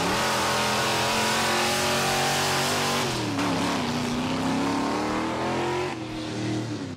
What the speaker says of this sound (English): Now, when you hear this thing run, it becomes obvious that this is not a regular street-going Mercury Comet.